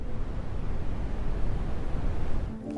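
Deep, rumbling brown noise fills the space with a dense, low-heavy roar, steady and loud, ending suddenly just before the close.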